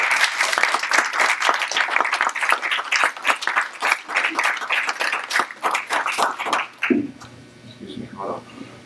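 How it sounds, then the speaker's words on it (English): Conference audience at a political panel of former governors applauds with loud, dense clapping for about seven seconds, then cuts off abruptly, leaving quiet room tone and faint voices. "How about a round of applause for"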